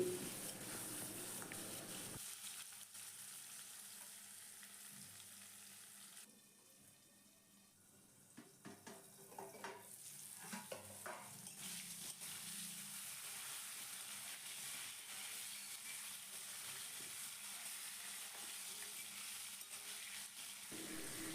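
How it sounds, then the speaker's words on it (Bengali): Potatoes with turmeric and salt frying under a lid in a pan, a quiet, steady sizzle with a pause and some clattering of the lid and stirring midway before the frying resumes. "এখন আলুটাকে নাড়াচাড়া করে ঢাকনা দিয়ে ঢেকে খুব ভালো করে লাল লাল করে ভেজে নিতে হবে"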